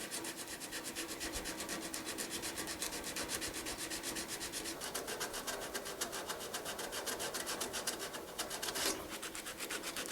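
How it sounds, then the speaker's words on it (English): Body filler on a car's headlight bezel area is sanded by hand with 100 grit sandpaper, a close, steady, rhythmic scratchy rubbing that goes on without pause and with no voices. "what we're going to do is kind of sand in from each direction so I can continuously do the transition right here"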